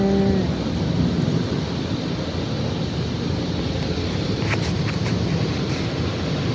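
Powerful car wash air dryers blowing over a car, a loud steady broadband roar that holds evenly throughout with a few faint clicks.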